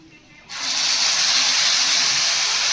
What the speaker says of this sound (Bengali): মশলাটা যে জলে ভিজিয়ে রেখেছিলাম ওইটা দিয়ে দেবো।